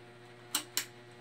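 A wall fan runs at medium speed with a faint, steady motor hum, interrupted by two sharp, closely spaced clicks of its switch, with no talking.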